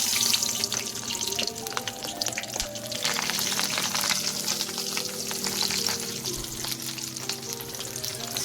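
Fish paturi pieces fry in hot mustard oil, giving a dense, continuous close sizzle with fine crackling spatter and a few faint clinks that hold steady throughout.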